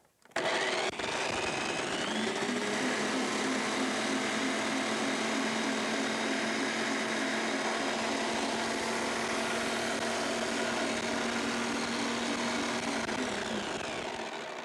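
An electric food chopper runs steadily for about twelve seconds at close range, a loud whirring motor drone with a slight rise in pitch as it spins up, then cutting off at the end.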